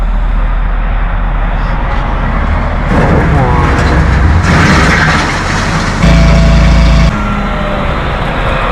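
A small tractor engine running at a steady loud drone at a paver driveway job, close by, its tone shifting slightly as it revs for a moment.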